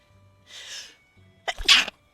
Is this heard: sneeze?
yes